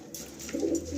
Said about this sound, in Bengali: এখানে একটা ফুলসিরা পেয়ার রয়েছে